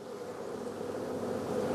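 Honeybees swarm over a hive frame of pollen and nectar during a hive inspection, a steady, dense buzz that holds evenly throughout and swells slightly toward the end.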